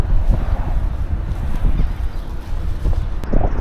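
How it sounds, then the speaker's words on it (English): Strong wind buffets the microphone with loud, steady low rumble and gusts throughout, outdoors near fresh paintwork and fish decoration, with no talking. "Oh, man. The wind!"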